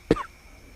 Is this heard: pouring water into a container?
no